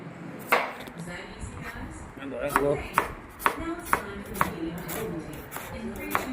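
Sharp knife chops on a cutting board through chicken pieces for chicken 65 biryani, a steady run of close, crisp thuds that speed up into a quick, regular rhythm over faint kitchen background.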